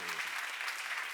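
Seminar attendees give a short, brisk burst of applause, many hands clapping together quietly and steadily for about a second.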